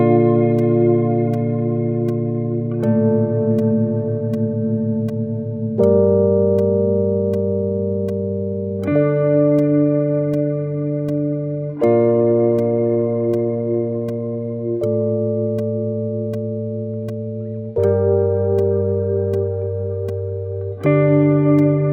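Sustained instrument chords played through a huge black hole reverb, each chord ringing long and wide before the next one enters, in a slow even sequence of about eight changes.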